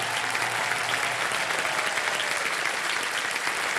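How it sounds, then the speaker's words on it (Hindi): A studio audience on a television quiz show claps loudly and continuously for the contestants, a thick, even wall of applause with no talking over it. "जोरदार तालियां बज जाएं"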